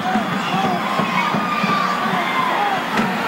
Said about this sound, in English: Look at this tremendous uproar of this crowd here at the Sam Houston Coliseum